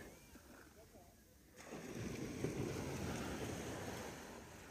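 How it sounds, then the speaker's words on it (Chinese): Sea waves washing onto a beach, a broad roaring wash that swells and holds steady, with wind buffeting the microphone, heard up close and fairly faint. "漫步在海滩上，听着海浪拍打的声音"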